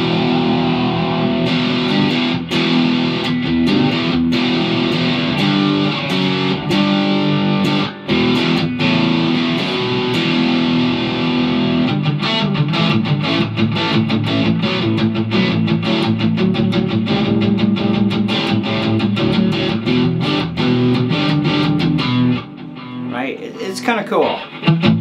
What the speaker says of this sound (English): I got a bit of delay and reverb turned on this thing.